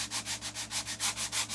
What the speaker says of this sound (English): give a light sanding to this seam area, so we don't have a thick